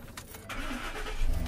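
A 2011 Ford F350 utility truck with a 6.2 liter gas engine cranking over and catching, a brief starter whir rising into a firm idle close by, no speech.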